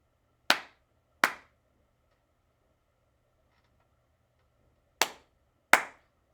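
Students clap a rhythm to celebrate during a piano lesson: four sharp, crisp claps, a quick pair near the start, a long quiet gap, then a second quick pair, each standing alone in near silence.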